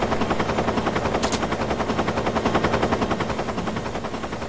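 Rapid machine-gun fire rattles loud and continuous over a steady helicopter rotor drone in the video game Metal Gear Solid 3, with a brief bright burst partway through.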